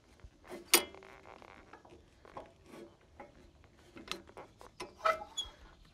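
Clamps being set on a log on a sawmill for plain sawing lumber: scattered close mechanical clicks, knocks and ratcheting taps, one sharp clack early and several smaller ones later, with faint voices in the background.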